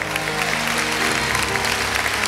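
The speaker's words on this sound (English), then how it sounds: "Give them a round of applause." Loud audience applause at a church comedy event, a dense continuous clapping wash heard up close, with a low tonal hum of music or voices running beneath it.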